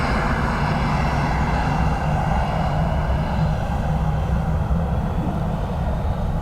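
An airliner taking off from runway 10 right at Dublin Airport makes a loud, continuous jet engine roar, with rumbling low end and a rising whine, sustained evenly throughout with no talk.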